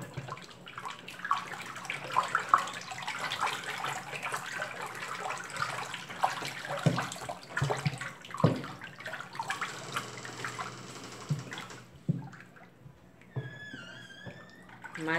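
Water pours and splashes into a container while homemade bleach is mixed from caustic soda, a faint, uneven sloshing with occasional clinks and stirring.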